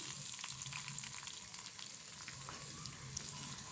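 Dried chillies frying in oil with chopped onion and garlic for a thin khichuri, a soft but continuous crackling sizzle with light stirring scrapes, fairly quiet and free of speech.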